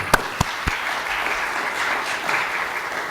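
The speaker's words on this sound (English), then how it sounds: "Can we have a round of applause for that?" Audience applause at a church assembly: a dense, even wash of clapping from a crowd that carries on steadily for several seconds, with a few sharp knocks near the start.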